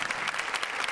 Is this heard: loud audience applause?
yes